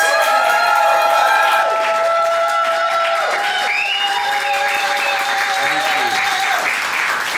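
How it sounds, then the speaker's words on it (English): Loud, steady clapping with cheering and whooping from a crowd at a comedy roast, sustained throughout with bright shouts rising above the applause. "Guys, I want you to start clapping right now and make it loud for the woman in the hot seat"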